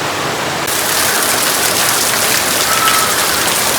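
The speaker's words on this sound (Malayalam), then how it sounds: "എന്തൊരു മഴ." Heavy rain pours down steadily, a dense, loud, unbroken hiss of drops on surfaces nearby that continues without pause.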